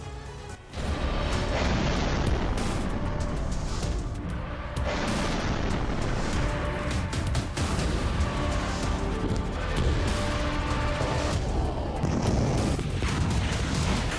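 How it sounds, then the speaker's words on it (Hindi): A sudden deep blast of a wartime explosion in Crimea breaks out, followed by a loud, roaring rumble that keeps going with crackling bursts throughout. "दुनिया को चौंका देने वाला एक जोरदार धमाका हुआ।"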